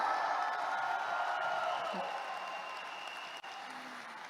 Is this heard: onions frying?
no